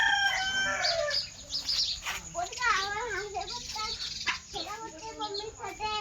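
Backyard chickens cluck and a rooster crows in a morning yard where ducklings are kept, with repeated, fairly close calls mixed with nearby human voices.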